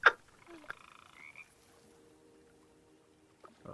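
A frog croaks in a few short, close bursts with quiet gaps between them, alone with no talking.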